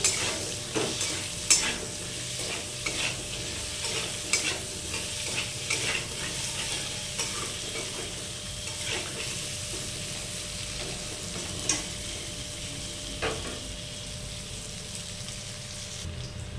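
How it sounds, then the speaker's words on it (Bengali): Potatoes frying in oil in a pan for a soybean curry with cashews, giving a continuous close crackling sizzle with repeated spatula scrapes and stirring taps throughout, with no talking. "এবার আমরা আলুটা লাল করে একটু ভেজে নেব"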